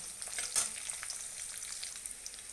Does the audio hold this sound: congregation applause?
no